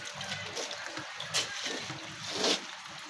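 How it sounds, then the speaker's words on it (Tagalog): Heavy rain falls on a village path on a cold, wet morning, a steady wash of water with a couple of louder splashy surges near the middle and end, close by with no talking. "Grabe ang ulan."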